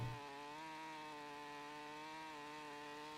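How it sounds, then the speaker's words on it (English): Steady, continuous chainsaw drone from a video game lumberjack simulator as a log is cut, loud and close, holding an even engine pitch with no speech. "Finish it up with the chainsaw."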